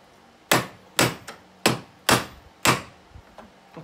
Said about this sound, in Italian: Con una serie di martellate ben assestate, in realtà con delicatezza per non rovinare il cuscinetto.